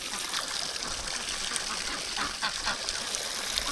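Ducks quack near splashing, trickling water outdoors in winter, a steady wet wash with scattered quacks throughout and no talk.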